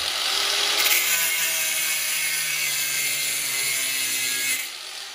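Steady, continuous grinding of a saw cutting through the end of a metal Allen key, loud and close, running without pause for about five seconds before stopping abruptly.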